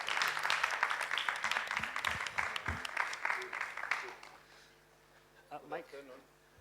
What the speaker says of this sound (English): Round of applause there, folks.